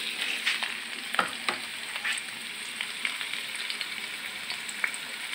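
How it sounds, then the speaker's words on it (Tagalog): Ingredients for chicken menudo sauté in a pan with a steady, even sizzle and occasional stirring scrapes, alone and close with no talk. "Ito, gigisa natin muna ito."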